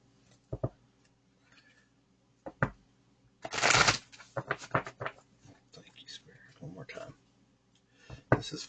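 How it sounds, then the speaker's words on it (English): Tarot cards being shuffled by hand during a reading, a quick series of close riffling and tapping bursts, with one dense riffle near the middle and scattered softer card taps around it. "I'm going to give these a quick shuffle."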